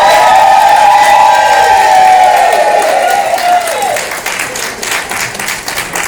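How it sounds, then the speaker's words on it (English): A banquet crowd at a beauty culturists' league gathering applauds the organization's past president, loud sustained clapping with a ringing tone sliding down over it before the clapping thins and fades. "Give her a round of applause."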